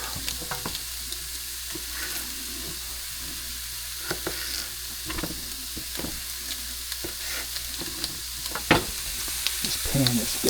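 Meat browns in a hot pan on the stovetop with a steady, close sizzle, broken by scattered clicks and scrapes of a utensil, and no voices.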